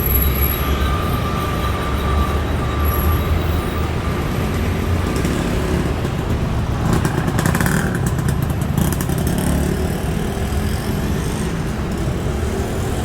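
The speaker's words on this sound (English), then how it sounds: "BTS is the Sky Train." A Bangkok BTS Skytrain runs along an elevated track beside Si Lom, making a loud, steady rolling rumble with thin metallic wheel squeals that swell mid-pass, and no one speaks over it.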